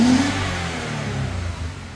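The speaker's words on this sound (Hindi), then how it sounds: "तो वैसे गाड़ी हमारी स्टार्ट है" A Toyota Avalon with knock sensor error codes and a weak battery runs just after starting. The engine revs briefly up close, then settles into a steady mid-pitched idle with a slight wavering rhythm and no talking.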